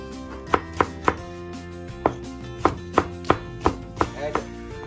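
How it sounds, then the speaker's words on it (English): Onions being chopped with a knife on a board, about a dozen sharp, distinct thuds at an uneven steady pace, close and clear with no talking. "Chop onions."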